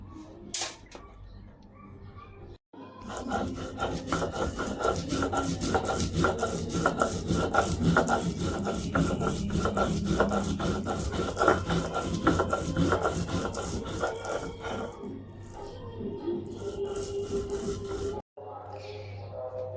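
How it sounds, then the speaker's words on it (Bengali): Cumin seeds ground by hand on a grinding stone, a steady rough rasping rub repeating quickly and close for most of the stretch, with a brief pause near the start and a sudden stop at the end. "জিরাটাই সুন্দর করে বেটে নিয়ে"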